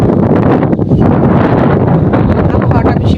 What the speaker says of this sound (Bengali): দেখেন আমার পিছনে কি বাতাস, আমার ভিডিওর মোবাইলটা সহকার বাতাসে উড়ে না যাচ্ছে।